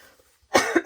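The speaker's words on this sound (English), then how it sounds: "I was having a little coughing fit" A single sharp cough bursts out close up after a brief quiet moment.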